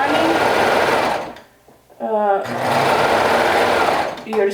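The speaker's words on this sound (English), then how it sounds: "hem it with your cover stitch or your sewing machine with a twin needle or a zigzag stitch" Sewing machine stitching a shirt hem with a twin needle or zigzag stitch, two loud runs of rapid motor whir split by a short pause, with a voice speaking over the stitching.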